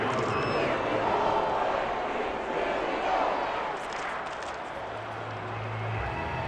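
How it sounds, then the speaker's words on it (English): A stadium crowd in a Madden 22 football game between the Steelers and Vikings gives a broad, steady roar of applause and cheering, with a commentator-like voice faintly underneath. "How about some applause for the defense there?"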